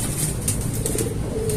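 Racing pigeons kept for breeding in a loft coo steadily nearby, with bursts of wing flapping breaking through a dense, continuous bird chorus.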